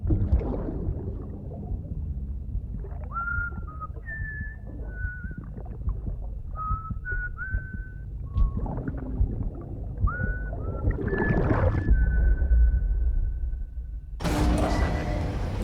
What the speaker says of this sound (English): That whistling tune is kind of catchy.